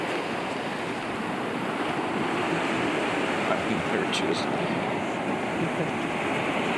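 Ocean surf breaks and washes along a beach in a steady, loud roar mixed with wind buffeting the microphone, while a person speaks briefly over it.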